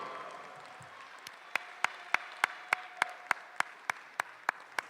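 A small audience at a women's basketball game at Allen Hancock College applauds a sophomore player, with a few sharp, distinct claps ringing out in a steady rhythm over a faint background murmur.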